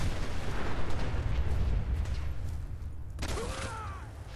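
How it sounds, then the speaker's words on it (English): Heavy, rumbling explosion and battle noise from the video game Fallout 4, a dense low roar that fills most of the stretch before dropping into a thinner, sharper burst of game sound at the end, with no voice over it. "Oh, this is gonna explode anytime now."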